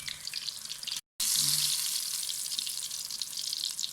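Taro (arbi) and potato pieces frying in hot oil until brown, a dense, close, continuous sizzle and hiss broken by one brief cut, with a little stirring underneath.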